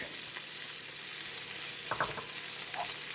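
Fresh garlic hits a hot pan and sizzles in a steady, bright hiss, with a brief crackle of stirring or spatter near the middle.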